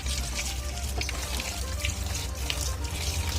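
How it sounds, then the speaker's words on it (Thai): Tap water pours steadily into a container for pickling bamboo shoots, a continuous close splashing gush with no pauses and no talking. "เอาน้ำใส่บึ้ง เอาเป็นน้ำกับเป็นน้ำก๊อกก็ได้ครับ ใส่เลยครับ"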